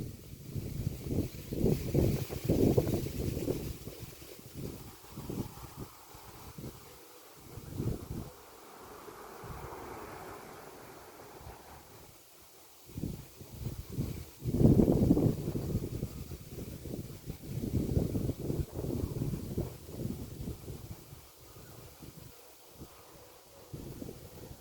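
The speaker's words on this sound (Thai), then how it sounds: "ลมแรงมากเลย" Strong outdoor wind gusting and buffeting hard against the microphone in uneven surges, with rustling between gusts and a quieter lull midway.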